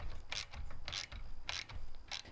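A B&W Companion fifth wheel hitch clamp closing, giving a run of metallic ratcheting clicks in a quick, regular rhythm, close and fairly loud with no talking.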